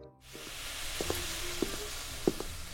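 Gorengan fritters fry in hot oil at a street food stall, a steady close sizzle broken by a few sharp knocks and scrapes of utensils.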